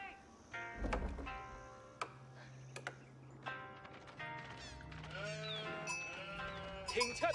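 Sheep bleat repeatedly in Age of Empires 4, several overlapping wavering cries at close and middle range over a low game ambience, with a few dull thunks scattered between them.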